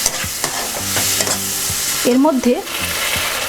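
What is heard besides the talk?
ginger and cumin paste frying in a pan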